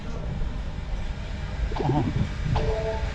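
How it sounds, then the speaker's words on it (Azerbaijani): Train pulling away from a station bound for Jakarta, a steady low rumble of rolling wagons filling the whole stretch, with brief squealing tones from the wheels or brakes partway through, close and continuous. "Aha, qatar çıxdı."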